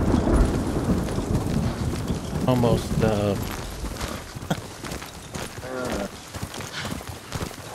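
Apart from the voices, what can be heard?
horse galloping in the video game Ghost of Tsushima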